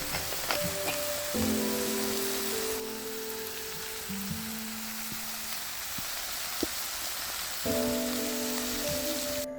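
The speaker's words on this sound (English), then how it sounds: "add in the spinach and let it cook for 1 to 2 minutes or until it's wilted" Spinach sizzling and wilting in a hot pan, a steady rain-like hiss that runs throughout, with faint background music tones and no talking.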